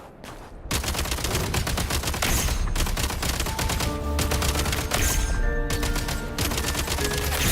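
Sustained rapid gunfire in Genshin Impact, shooting at the Vila: dense, loud volleys of shots running almost continuously, with faint tonal game sounds in the background and no talk.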